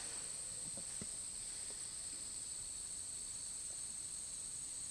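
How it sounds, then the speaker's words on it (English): Crickets chirp as a faint, steady high-pitched drone through a quiet night, with a few soft scattered noises underneath and no voices. "just the sound of the crickets"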